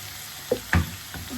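Tomatoes are added to hot oil with onions and green chillies for an egg curry with fenugreek, giving a close, steady sizzle with a few sharp pops and a spatula scrape in the middle of the brief burst.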